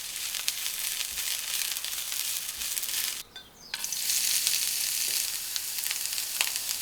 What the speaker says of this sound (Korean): 부추는 숨이 죽을 정도로만 살짝 볶고